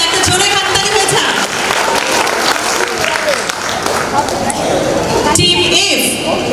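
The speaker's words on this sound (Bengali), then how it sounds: "একটা জোরে হাততালি হয়ে যাক।" An audience at a quiz event applauds, a burst of clapping from a crowd mixed with voices talking over it, loud and close throughout.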